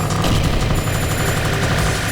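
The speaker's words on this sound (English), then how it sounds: "now in full-on bombs, you're going to see me abuse a little bit here" Bombs and rapid shot fire in the Like Dreamer shoot-em-up on Expert difficulty, a dense, continuous barrage of loud blasts and chattering gunfire layered over game music, with no talking.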